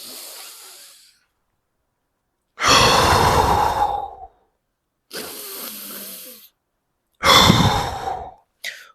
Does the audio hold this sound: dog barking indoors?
no